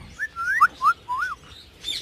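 Grey parrots in a breeding aviary give a short run of clear, rising and falling whistled calls, four or five notes in quick succession, moderately close and alone.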